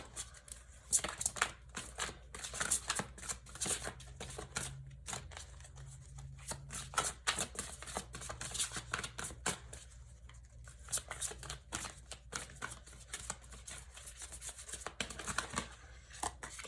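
A deck of tarot cards is shuffled continuously up close, with dense crisp riffles and flicks and brief pauses between bursts.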